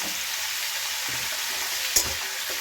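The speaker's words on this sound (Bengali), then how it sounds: "নাড়াচাড়া দিয়ে নিচ্ছি।" Turmeric and salt being stirred into a pumpkin and potato curry in a pan, with a steady broadband sizzle of frying throughout and a sharp scrape of the spoon near the end, no talking.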